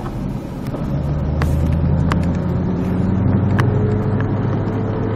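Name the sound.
car accelerating during a driving lesson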